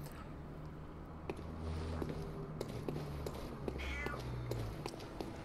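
A house cat meows repeatedly at a closed door, its cries rising over steady background noise from an indoor room with occasional faint footsteps or shuffling.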